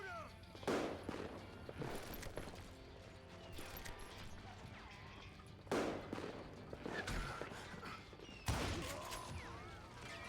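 Gunfire from the Western shooter game Call of Juarez: Gunslinger, with three loud sharp shot bursts near 0.7, 5.8 and 8.6 seconds over a busy, continuous game soundscape.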